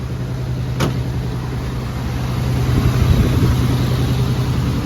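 A 43-year-old Chrysler Cordoba engine cranks with a brief click and catches, then settles into a steady low idle that grows slightly louder.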